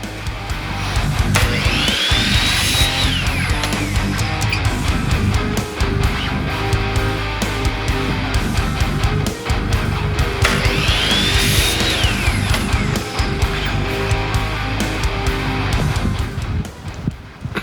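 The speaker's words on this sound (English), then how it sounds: "So I've been able to make a little more progress here with this fancy new saw I got, miter saw" A miter saw cuts small wooden pegs in a loud, continuous run, with two sweeping blade spin-ups and cuts standing out over steady whirring, and nobody speaking.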